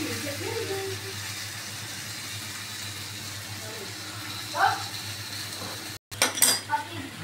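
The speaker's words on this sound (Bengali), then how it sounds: "এবার দেখো আমি জল দিয়ে দিলাম" Water is poured into a pan of dalna bora, fried lentil dumplings, giving a steady rushing hiss with a brief splash midway and a few clinks of a utensil against the pan near the end.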